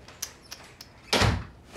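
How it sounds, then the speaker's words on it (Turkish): A door is pushed shut indoors: a few light taps and footsteps, then a single close, heavy thud with a brief rumble, and no one speaking. "Hadi kapa kapıyı."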